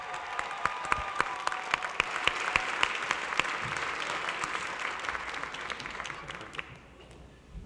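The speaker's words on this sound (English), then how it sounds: "a big round of applause" Loud applause from an audience of adults and children at a fifth-grade trivia bee, dense clapping with scattered sharp claps near the front, holding strong for several seconds before tapering off.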